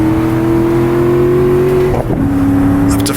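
A stock car engine in Assetto Corsa drones loudly and steadily under acceleration, its pitch climbing slightly before a brief dip at a gear change, then holding on again, close and continuous.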